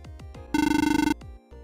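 An electronic phone ring in Friday Night Funkin' sounds as a single rapid, trilling burst of about half a second, set among short descending synth blips from the game.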